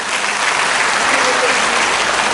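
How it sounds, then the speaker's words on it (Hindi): Audience at a rural political rally with a minister breaking into sustained, dense applause that fills the whole moment at a steady loud level. "अब विप्लव देव को पहचानती हैं तो तालियां बजाएं"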